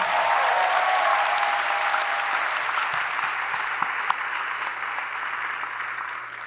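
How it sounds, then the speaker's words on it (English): Sustained applause from a convocation audience at a university orientation, honoring the orientation counselors, dense and steady throughout and gradually tapering slightly toward the end, with no talking over it. "Let's give these folks a big round of applause."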